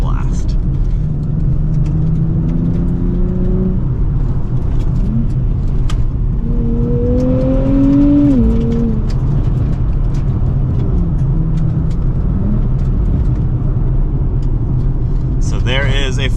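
A 2024 Nissan Z Nismo's exhaust rings loud and close on a mountain road drive, the engine note climbing and falling repeatedly as it revs through the gears over a constant road roar.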